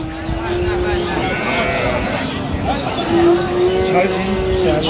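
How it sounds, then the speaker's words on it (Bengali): Sahiwal cows with calves at a busy cattle market: a long low moo carries through, then another rises near the end, over constant murmuring voices and background bustle. "শাহিওয়াল গাভী বাচ্চা আমরা দেখছিলাম এখানে"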